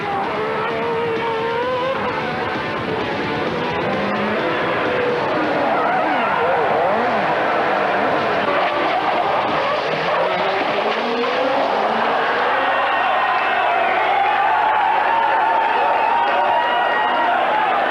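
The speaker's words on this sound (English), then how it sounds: "Driving the Williams Renault with that powerful RS5 engine" A 1993 Williams Renault Formula One car with its RS5 engine screams past, a loud continuous high-revving whine that rises and falls through gear changes, with the crowd faintly audible beneath it.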